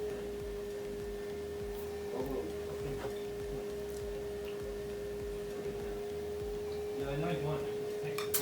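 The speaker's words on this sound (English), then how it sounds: "if you hear some slight buzzing, like a really low humming buzzing noise" A tortoise egg incubator gives off a faint, steady low hum with a constant tonal buzz, quiet and continuous, with small clicks and rustles scattered over it.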